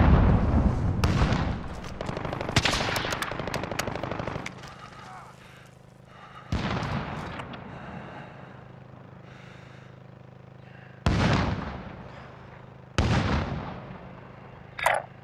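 Rockets launching in Call of Duty: Modern Warfare, several loud roaring blasts that each fade into a rumbling tail, separated by quieter stretches of low droning ambience.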